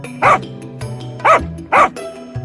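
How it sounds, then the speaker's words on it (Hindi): Village dogs bark while chasing another dog, three loud, close barks spaced about a second apart over a low background hum. "गांव के आवारा कुत्ते भी उस कुत्ते के पीछे भागते हैं।"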